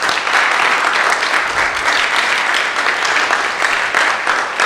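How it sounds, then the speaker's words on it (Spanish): Church congregation clapping hands together in praise, a dense, steady wash of applause filling the room without pause, loud and close throughout. "Démosle palmas al Señor."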